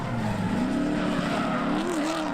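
A drift car works around a rain-soaked race track at a drift special stage in Australia, its engine note rising and dipping steadily as the throttle goes on and off, loud and close with no voices over it.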